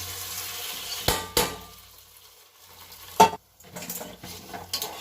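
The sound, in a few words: stirring fried tempering into cooked rice for pongal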